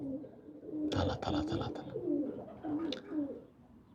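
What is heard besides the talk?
flock of pigeons cooing on a rooftop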